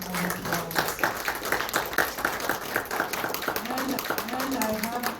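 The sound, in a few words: audience applause for Anna Sagulenko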